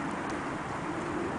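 A turkey calling at a nature center, soft low cooing tones that repeat in a steady murmur, close but fairly quiet.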